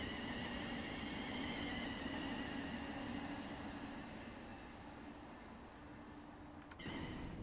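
Steady running noise of a Thameslink Class 700 electric train in Train Sim World 3: a droning whine with a low hum and high tonal lines, continuous throughout, with a brief sharp change near the end.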